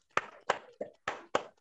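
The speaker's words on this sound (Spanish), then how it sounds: "Vamos a aplaudir." Sharp, separate claps from participants in an online meeting, five distinct hits spaced irregularly, thin and close, with quiet gaps between them.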